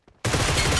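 Gunfire in the PUBG Mobile battle royale game: after a short quiet lead-in, a loud, dense burst of rapid shots erupts and keeps going as continuous automatic fire close by.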